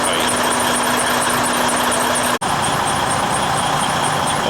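Diesel engine of a semi truck idling and creeping in reverse toward a trailer, a steady close rumble with a faint high whine, broken by one brief dropout near the middle.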